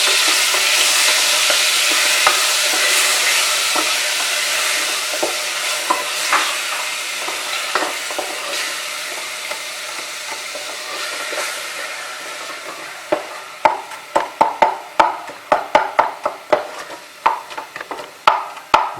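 Meat madras spice paste sizzling and frying in a pan, a loud close hiss that runs steadily and then gives way to rhythmic scraping strokes as the paste is stirred.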